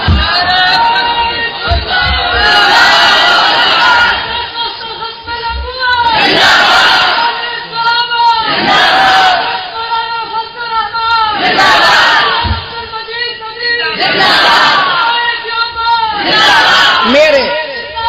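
A large crowd at a religious speech chants slogans in loud rhythmic unison, repeated bursts of massed voices rising and falling over about eighteen seconds with a leader calling between them.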